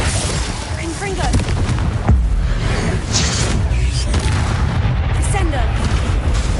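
Repeated fiery blasts and booms from a Confringo fire explosion spell in the Hogwarts Legacy video game, loud and dense with whooshes, while a voice talks over the action.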